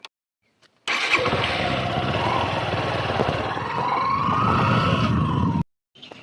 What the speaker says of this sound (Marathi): आज आपण बाईक घेऊन चाललो आहे